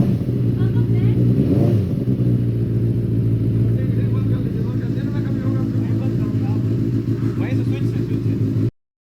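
Benelli 600i inline four-cylinder motorcycle exhaust, a loud, steady close-up engine roar with a brief rev swell near the start, running continuously before cutting off abruptly.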